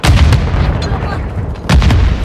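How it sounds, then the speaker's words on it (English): Explosions from bombs in Call of Duty boom loudly in a dense, rumbling barrage, with a second heavy burst near the end and faint voices underneath. "Apparently, there's bombs."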